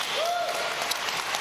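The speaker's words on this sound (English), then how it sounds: "I question the authenticity of this applause here" Applause in a broadcast clip, a thin, steady wash of distant clapping with a brief faint tone gliding over it.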